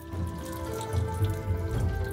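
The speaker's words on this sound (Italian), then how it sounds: "rimuoviamo dal fornello e scoliamo con uno scolapasta" Cooked vermicelli noodles poured off the stove into a colander, water rushing and splashing steadily through the holes for a couple of seconds, close and moderately loud with no talking.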